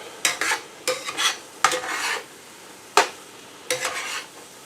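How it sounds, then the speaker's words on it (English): Mushrooms are stirred in a pan, and a utensil scrapes through them in about six short, close strokes with brief pauses between. A soft sizzle sits underneath and no one speaks. "I'm going to stir my mushrooms"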